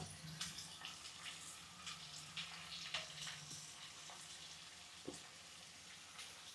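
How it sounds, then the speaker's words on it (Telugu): Onions, ginger and garlic frying in a pan, a soft steady sizzle with faint crackles and a few clinks of stirring, quiet and close. "ఇదిగోండి ఆనియన్స్ అయితే వేపేస్తున్నాను"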